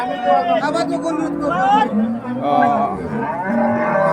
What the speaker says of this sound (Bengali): বিরাট বড় গরু